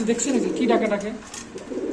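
Jacobin pigeon giving low, rolling coos close by, blended with people talking and background bustle.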